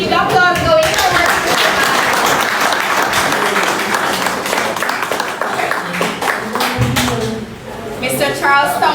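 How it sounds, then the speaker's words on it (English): A crowd applauds at a political gathering in Jamaica, sustained loud clapping throughout with voices and cheers mixed in and a speaker's voice briefly breaking through at the start and end. "Keep the applause going forward."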